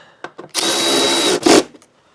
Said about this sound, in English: Let's get these screws in the air box.